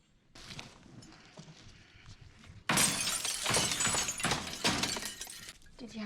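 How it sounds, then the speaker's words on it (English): Glass shattering loudly, a sudden burst of breaking that stays dense and noisy for a few seconds after a quieter stretch of rustling; the glass is a bottle of alcohol smashed over a walker's head in The Walking Dead. "Did you have to break the glass?"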